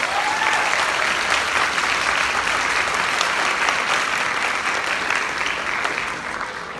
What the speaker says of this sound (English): Let's give them a round of applause just for that